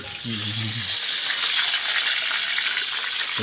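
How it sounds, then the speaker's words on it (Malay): Loud, continuous sizzling and crackling of salted snakehead fish frying in hot oil, close up, with a brief low hum at the start. "Jom kita goreng."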